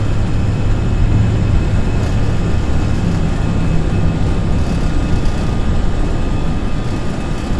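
A Boeing 787 takes off in the Prepar3D flight simulator at Edmonton, a loud continuous engine roar at full thrust that holds steady throughout, with no talk over it.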